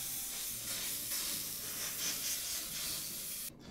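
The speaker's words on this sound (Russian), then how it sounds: "количество выдаваемого пара, так как это небольшой парогенератор, он не сильно мощный" A steady, fairly quiet jet of steam from a small, low-powered steam cleaner hisses for a few seconds while cleaning a kitchen kettle, then cuts off abruptly.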